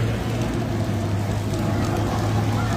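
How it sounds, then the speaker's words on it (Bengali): Rain falling outdoors, a loud, steady wash of drops on surfaces with a low constant rumble underneath and no clear voices. "বিনা মেঘে বিনা কিছুতে বৃষ্টি"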